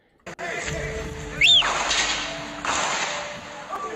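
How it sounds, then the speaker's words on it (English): A sharp gunshot cracks and rolls away in a long echo through city streets during the siege of Sarajevo, followed by a second fainter report reverberating between buildings. "That was the sound of gunshots echoing through the streets during the siege of Sarajevo in the Bosnian War."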